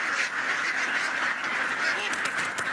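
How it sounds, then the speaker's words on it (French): Thousands of ducks let loose onto rice paddies in Thailand, a dense chorus of overlapping quacks and honks, close and continuous, forming a busy flock din with no talk. "Des milliers de palmipèdes qui, dans un joyeux cancanement, s'ébrouent en quelques secondes sur des hectares de rizières."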